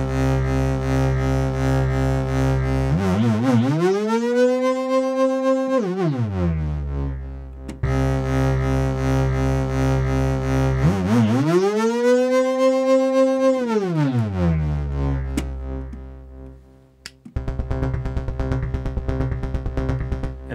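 Analog modular synthesizer playing a deep sustained bass patch, its pitch sweeping up and back down twice in long glides, then breaking into rapid pulsing notes, loud and alone with no talk.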